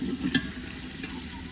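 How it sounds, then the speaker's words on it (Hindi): Masala for chicken pulao fries in a pan with a soft steady sizzle, and a quick scrape of stirring comes near the start of this short close-up moment. "ये देखें मसाला भुन चुका है, थोड़ी देर में भुन जाएगा।"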